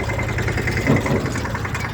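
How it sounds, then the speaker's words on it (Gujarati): A mini tractor's engine runs nearby, carrying vegetables to a kitchen, with a steady mid-pitched rumble and a slight swell midway, continuous throughout and without talk. "અહીંથી મિની ટ્રેક્ટર દ્વારા જુઓ સપ્લાય થઈ રહી છે શાકની"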